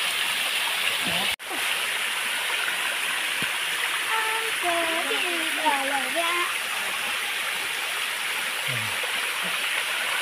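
Pinipisakan waterfall in Northern Samar roars as a steady, dense rush of falling water close by, with people talking over it.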